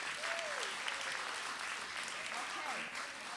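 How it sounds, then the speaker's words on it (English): Steady applause from an audience at a poetry reading event, dense continuous clapping filling the space with a few voices faintly mixed in. "So, would we give a big loud applause for Jenny Thiel and Ryeneck?"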